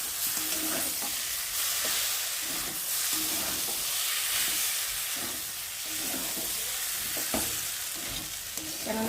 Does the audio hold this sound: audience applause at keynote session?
no